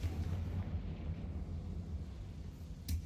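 Booming spell blasts in Hogwarts Legacy, a continuous low rumbling explosion texture filling the short stretch, with a sharper burst near the end, loud and close, no talking.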